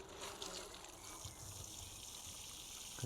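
Water sprayed from a coarse rose onto plants on an allotment in May, a steady broad hiss of falling droplets that runs continuously and close by with no talk.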